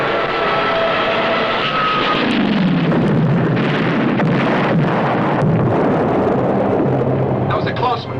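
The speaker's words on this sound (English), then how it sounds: "making a bomb run on us." Bombs bursting near a submarine during an aircraft bomb run, heavy rumbling blasts and roaring engine-like noise filling the whole stretch, with voices speaking over the din.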